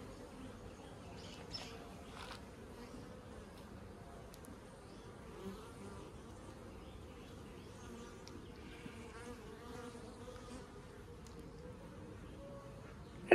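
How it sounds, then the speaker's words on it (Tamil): Honeybees buzzing around a beehive box outdoors, a faint steady insect drone with occasional closer passes, no voices present. "அடியில அடியில் எதிர்க்குது பூச்சி. இப்போதான் உள்ள போய்கிட்டு இருக்குது."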